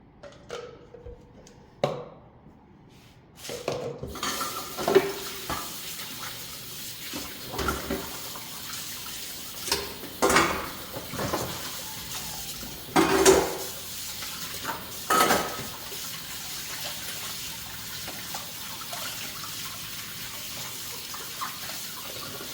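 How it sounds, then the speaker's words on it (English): Pet dishes being washed in a kitchen sink: running tap water with clinks and clatters of bowls, intermittent splashing and scrubbing at close range, no talking. "now I'm going to just finish doing the pet dishes"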